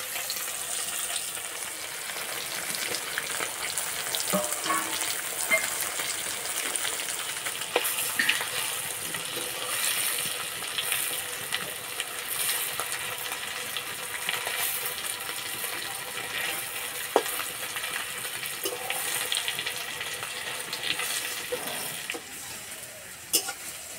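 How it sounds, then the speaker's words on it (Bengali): Cauliflower and egg frying in a pan, a continuous sizzle with scattered crackles and occasional sharp clinks of a utensil, steady and close for the whole stretch. "বেশি দেবো না, অল্প অল্প করে ভেজে নেব।"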